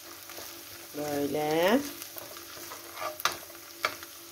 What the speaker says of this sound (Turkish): Güzelce soğanla salçalarımı da kavuruyorum.